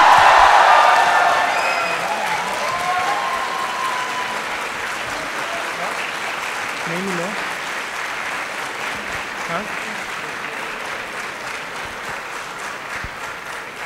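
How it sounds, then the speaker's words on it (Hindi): A large crowd at a motivational event claps steadily, loudest at the start and then settling into sustained applause, with some faint voices underneath. "एक बार जोरदार तालियों से स्वागत कीजिए"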